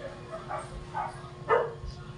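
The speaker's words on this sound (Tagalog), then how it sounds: "Ang dami aso sa labas." Several dogs bark outside at a distance, down below the house, giving three or four muffled, spaced barks over a low background hum.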